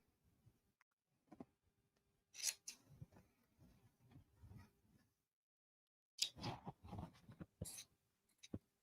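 Scissors cut fabric for sewing, giving a few short crisp snipping bursts separated by quiet handling and rustling, close and faint.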